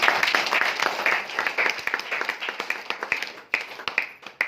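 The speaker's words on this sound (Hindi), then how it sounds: "एक जोरदार ताली" A room of trainees at a distributor training session claps loudly, a dense, brisk round of hand claps with sharp individual slaps, steady throughout and close by, with no talk over it.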